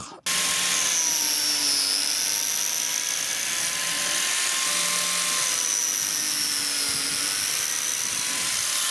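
A Parkside PFDF 900 B2 biscuit joiner cutting a test slot in a 16 mm scrap board, a loud continuous high-pitched motor whine that starts abruptly and holds steady throughout.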